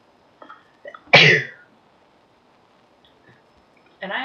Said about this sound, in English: And I had a sneeze-worthy thing in my nose.